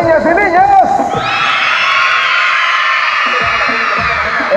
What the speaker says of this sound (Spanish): ¡A ver un grito, niñas y niños!